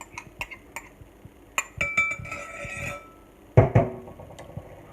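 Live blue crab meat going into a bowl for chunky crab cakes, heard as scattered light clinks and soft taps against the bowl, with a couple of louder knocks, close by and without talk.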